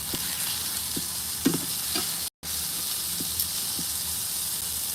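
Sirloin steak fries in a pan with a steady, even sizzle and hiss, broken by a few soft clicks and stirring taps and one very short dropout near the middle.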